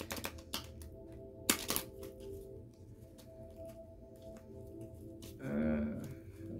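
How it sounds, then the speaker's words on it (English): Quick, crisp clicking and riffling of a deck of tarot cards being shuffled close up, with a sharper snap partway through and a brief soft whir near the end. "Let's go ahead and shuffle again and clarify with the Arcanum deck."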